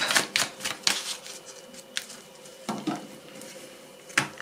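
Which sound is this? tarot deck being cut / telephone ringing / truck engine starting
tarot deck being cut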